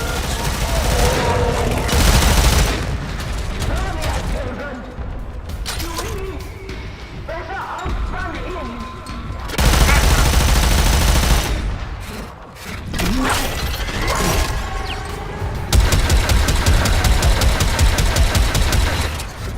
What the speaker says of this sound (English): Can you tell I upped the firing speed of the automatic grenade launchers?